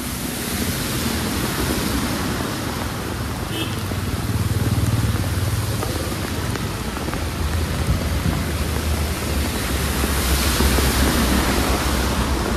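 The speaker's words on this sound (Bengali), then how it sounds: "এত বৃষ্টি মানে বছরে সেরা বৃষ্টি" Heavy monsoon rain pours on a flooded village road in Ilambazar, a dense, loud, continuous roar of water with low rumbling underneath.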